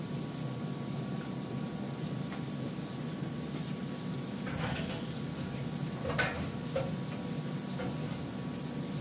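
Ginger paste sizzling as it fries in a pan, a steady faint hiss of frying with a few soft stirring and clinking sounds partway through.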